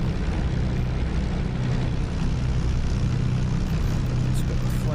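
A P-51 Mustang engine runs just after start-up in the DCS flight simulator, producing a loud, steady, unbroken propeller drone throughout.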